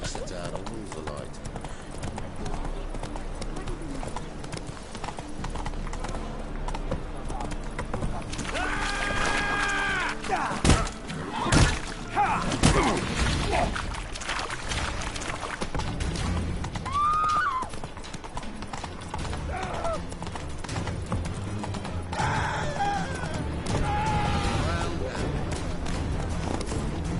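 Roach, the horse in The Witcher 3, gallops with steady clip-clop hoofbeats and an occasional whinny, sustained and fairly loud beneath voices talking over the game sounds.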